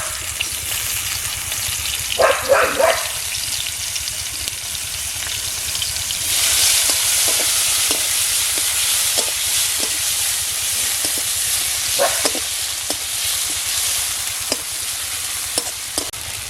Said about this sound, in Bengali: পেঁয়াজটা ভাজা হয়ে গেছে লাল লাল করে।